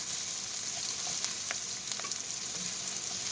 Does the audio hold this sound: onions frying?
yes